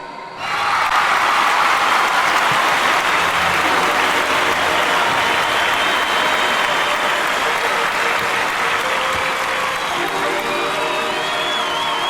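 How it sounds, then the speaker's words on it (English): Sustained clapping and cheering from wedding guests, a dense, loud, continuous wall of applause that starts abruptly and holds steady throughout, with occasional shouts rising above it. "The clapping and cheering lasted nearly 5 minutes"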